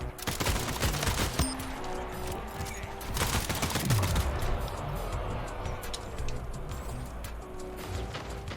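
Rapid video game gunfire rattles in dense bursts and volleys, loud and close, with a sharp crack partway through and quieter shots trailing off, mixed over game sound.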